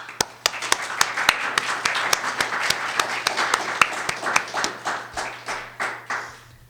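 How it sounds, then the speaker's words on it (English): An audience at an anthropology talks event claps for several seconds, with distinct hand claps rising to a steady patter and then thinning out as the clapping winds down. "I'd like you to join me in giving everyone a nice round of applause"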